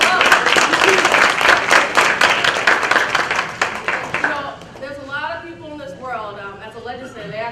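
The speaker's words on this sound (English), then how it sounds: "Give this organization a round of applause." Audience applause at a holiday party, dense clapping filling the room for a few seconds before thinning out as an amplified voice starts speaking over the tail end.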